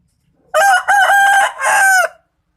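A Bangkok fighting rooster crows once, loud and close, a three-part call with a short gap after the first note, alone against silence.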